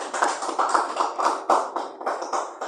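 A church congregation claps for Jesus, a steady rhythm of crowd handclaps in rapid, repeating pulses, close and lively, with no voices over it.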